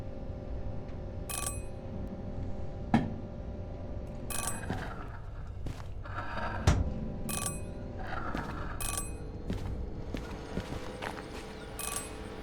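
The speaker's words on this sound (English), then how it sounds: "They've got like a little bell thing and that plays when this is turning, it's just a alerter." A locomotive alerter bell rings in the train simulator Derail Valley, short repeated bright dings spaced a second or two apart over a steady low engine rumble inside the cab.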